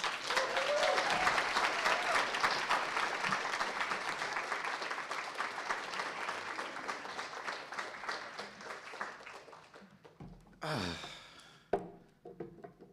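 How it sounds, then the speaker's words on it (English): A room full of listeners claps steadily for about ten seconds to welcome a speaker at a literary reading, the applause thinning out before a voice briefly speaks near the end. "Please join me in a warm round of applause to welcome Aristilde Kirby"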